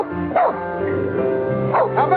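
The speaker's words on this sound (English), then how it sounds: "Daddy won't allow no dog. He can't stand here and bark." A dog gives a couple of barks and yips, one early and one near the end, mixed with a tonal background and other sounds in between.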